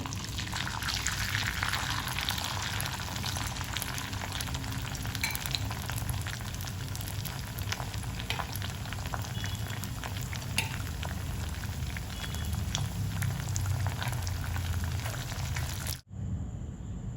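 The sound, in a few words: cauliflower frying in oil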